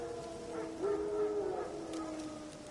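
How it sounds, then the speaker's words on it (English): Wild dogs in The Witcher 3 let out a distant, drawn-out howl with whimpering yips, faint and soft over a low game ambience. "Wild dogs. Yes. More dangerous than wolves."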